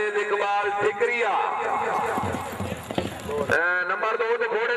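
Horses gallop past in a rural horse race in Pakistan, with loud rhythmic hoofbeats close by while an announcer talks over the crowd.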